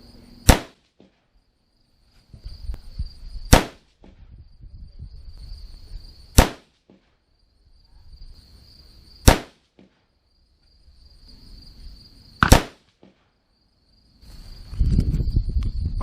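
Four sharp 6.5 Creedmoor rifle shots on a 100-yard range, fired from a rifle in a Bell & Carlson stock, spaced about three seconds apart with quiet gaps and light handling noise between.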